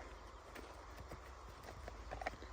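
A mare's hooves clip-clop in a steady walking rhythm on a Ukrainian farm, close and clear, with a faint whinny-like sound near the end.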